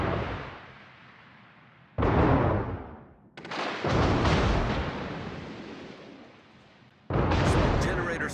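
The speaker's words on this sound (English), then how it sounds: "All stations requesting fire on the designated target." Naval guns fire on a target in the video game World of Warships: three heavy, loud blasts, each followed by a long rumbling decay, with quieter gaps between them.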